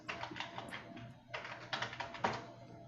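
Keyboard typing from an AI writing tool producing an article: bursts of quick, close key clicks with short pauses between runs, no speech.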